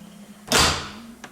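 A door on a classic car under restoration is shut once with a firm, close thud that decays quickly, followed by a small click.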